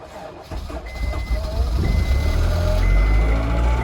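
Close and loud, a high-mileage Honda S2000 catches after a short crank and settles into a low, rumbling cold idle, with a faint high beeping tone in the background.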